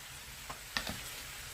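Sliced onion frying with potatoes in a pan, a soft steady sizzle with a few light clicks and stirring scrapes, close and quiet.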